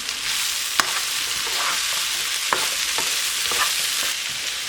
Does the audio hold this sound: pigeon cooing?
no